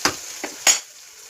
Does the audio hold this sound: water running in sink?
no